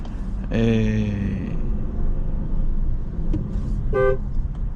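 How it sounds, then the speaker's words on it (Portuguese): Car traffic with honking horns around a Jeep Renegade T270 1.3 turbo flex, a long horn blast followed later by a shorter toot, over a steady engine and road rumble, close and loud. "tá complicado o trânsito hoje"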